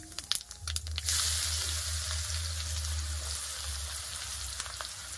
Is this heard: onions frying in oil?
yes